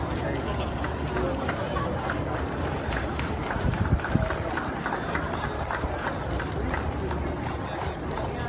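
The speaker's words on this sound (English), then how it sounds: "A lot of people waiting to see the horse parade start." Busy outdoor crowd waiting for a horse parade at the 2018 Gathering of Nations in Albuquerque, with steady chatter and hubbub throughout and faint hoof clops and movement mixed into the noise.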